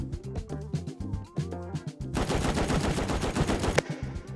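An automatic turret in the video game Rust fires at a player in rapid bursts, first in a choppy rhythmic stutter, then as a dense, loud sustained volley that cuts off sharply.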